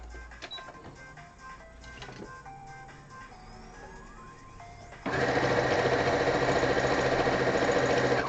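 A sewing machine starts up partway through and stitches the top fabric of a dice bag, a loud, steady, rapid motor hum and needle rattle that follows a stretch of quieter handling noises.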